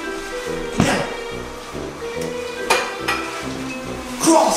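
Cooking sounds from a dinosaur in a video game: a steady sizzling frying bed punctuated by three or four sharp clanks like a pan or utensil striking, close and moderately loud, without speech.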